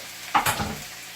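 Shrimp simmering in coconut curry in a pan gives a brief burst of sizzle and a stirring scrape, close and fairly quiet, before fading back to a low hiss.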